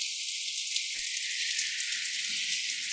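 Heavy rain pours down in a steady, dense hiss, constant throughout, with a faint low rumble beneath and a single brief thump near the start.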